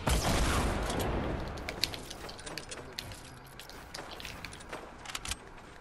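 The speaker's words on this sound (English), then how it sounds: "I'm getting shot at by so many people right now" Dense, continuous gunfire exchange in the video game Fortnite, loudest at the start and then settling into scattered overlapping shots and bursts, with players talking over it.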